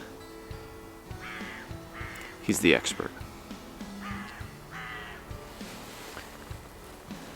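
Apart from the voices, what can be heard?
birds yelling outdoors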